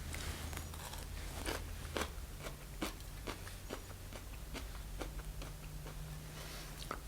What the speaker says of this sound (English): A lot more crunchy.